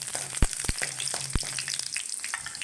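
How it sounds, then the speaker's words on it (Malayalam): Two small onions hit hot coconut oil, already tempered with mustard seeds and curry leaves, in a home kitchen; a steady close sizzle runs throughout, broken by a few sharp crackling pops. "2 ചെറിയ ഉള്ളിയുടെ എണ്ണത്ത് ഇടുകയാണ്"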